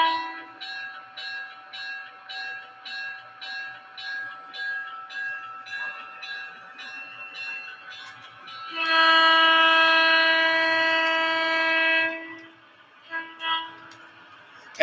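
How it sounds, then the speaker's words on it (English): Model train sound system plays a repeating bell, then a loud sustained horn-like blast of about three seconds, followed by a couple of short metallic clanks meant as coupler slack. "coupler slack sound."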